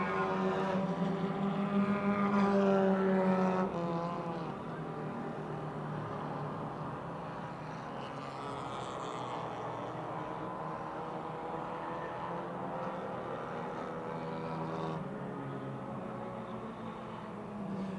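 Super compact race cars roar through a heat race at Motordrome Speedway, a dense blend of several engines producing a continuous buzzing drone with shifting pitch, loudest in the opening seconds as cars pass nearby, then holding steady at a slightly lower level, with no voices.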